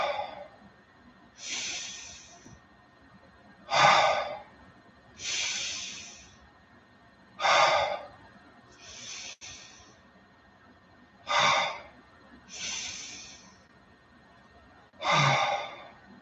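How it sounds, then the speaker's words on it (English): Deep breaths drawn and released slowly during a guided meditation, about eight slow, evenly spaced breath cycles, each a soft, close airy inhale or exhale with quiet pauses between, no talking. "Take a few deep breaths."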